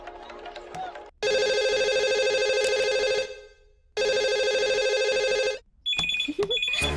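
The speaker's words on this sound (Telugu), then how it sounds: "ఫోన్ ఏంటి ఎంగేజ్ వస్తుంది?" A telephone engaged tone plays as two long, loud electronic tone bursts separated by a short gap, with a voice talking briefly before and after them.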